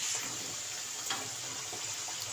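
Water is poured from a glass onto sugar in a cooking pan to start a syrup, a soft steady trickle and splash, fairly quiet and alone.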